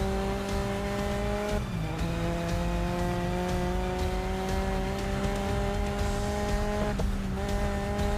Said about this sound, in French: Je suis parti en dérapage.